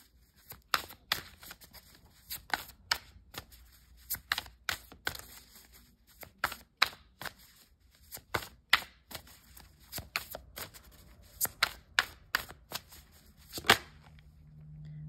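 Tarot cards are shuffled and drawn by hand, giving a string of sharp, crisp slaps and flicks in irregular bursts, close and fairly quiet, with no talking.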